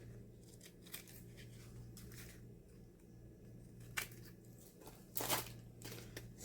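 Scissors snip through excess material for a junk journal, a few quiet, scattered cuts and paper rustles at close range, with no talking.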